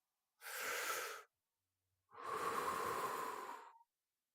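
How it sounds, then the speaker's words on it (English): Two slow, soft breaths fill the quiet: a short airy inhale followed by a longer, steady exhale, close and alone with no talking. "Now breathe with me."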